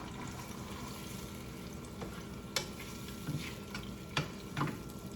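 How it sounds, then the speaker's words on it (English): Vegetables sautéing in a pan for Jamaican ackee and saltfish: a soft continuous sizzle with a few light scraping knocks from stirring, quiet and close. "And while these vegetables are sauteed"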